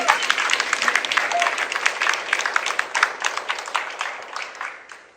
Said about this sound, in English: You would be free to clap and show your enthusiasm.